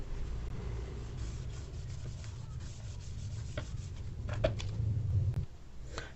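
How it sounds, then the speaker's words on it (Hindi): Rubbing out writing on a board, a steady close scrubbing and rasping that runs throughout with a few louder swipes near the end. "मैं इसको रब आउट करता हूँ"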